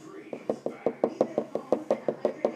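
Fingertips or nails tapping on a hardened baked-clay dinosaur figure, a quick series of about fourteen close, dry, evenly spaced knocks, fairly loud and alone.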